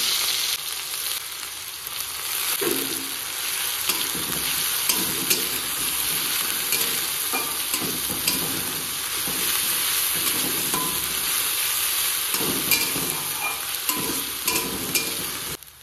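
Crushed spices sizzle and fry in hot oil in a pan, with steady loud crackling and occasional stirring scrapes, no talking.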